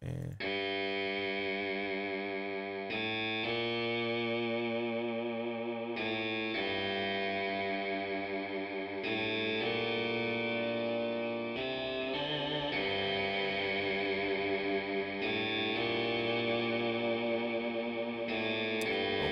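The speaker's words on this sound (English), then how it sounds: "so that's the reverb right there" Sustained synth chords played back through Logic Pro for iPad and a Tascam Model 12 change every few seconds, washed in heavy reverb and chorus that smear each chord into a shimmering, echoing tail.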